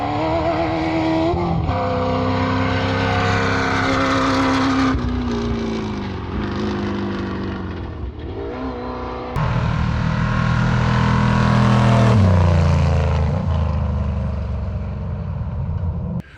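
A desert race truck roars past on an off-road course, its loud engine rising as it approaches and falling away with a pitch drop, followed by a second engine surge building close by.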